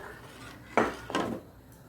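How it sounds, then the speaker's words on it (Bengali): Two brief scraping strokes sound close by as semai payesh with bay leaves and cardamom is stirred in a pot, each a short rasp of utensil against metal with near silence around them. "আর এটা একটু ভালোভাবে নেড়ে দেবো এর সাথে"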